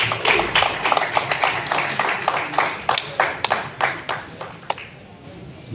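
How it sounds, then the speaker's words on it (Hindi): Audience clapping in welcome at a Mahatma Phule Jayanti programme, a series of distinct claps from a modest crowd, fairly close, thinning out and fading toward the end. "जोरदार तालियों से स्वागत है।"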